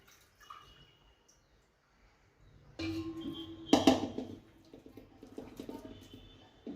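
Sour water being rinsed and drained off food in a kitchen, repeated two or three times: a quiet start, then running and splashing water with drips that swell midway and ease off, with no talking.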